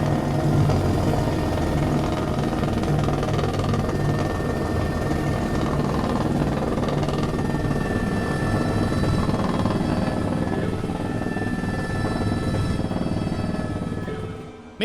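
Helicopter engines in Microsoft Flight Simulator wind down from a loud, steady turbine whine and rotor drone that stays level for most of the stretch, then tapers off in the final seconds.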